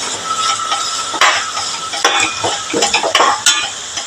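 Chicken curry masala sautéing with salt in a pan on a home stove, spatula scraping and clinking against metal in irregular strokes over a steady sizzle, close and fairly loud with no talk.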